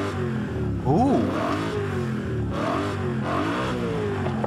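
A stock BMW E92 M3 in Forza Horizon 5 revs its engine in a few rising and falling pulls, loud and close, with brief exclamations over it.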